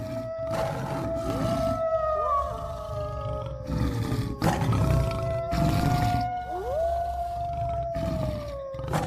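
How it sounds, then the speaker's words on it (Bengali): A tiger roars repeatedly, loud and close, with long moaning calls that rise and fall across several seconds alone without talk. "বাঘের ডাক"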